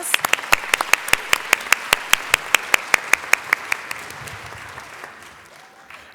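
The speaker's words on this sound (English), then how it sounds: "One more round of applause." Clapping rings out at a university staff service awards ceremony, a sharp, regular run of about twenty claps close to the microphone over softer crowd applause, fading out near the end.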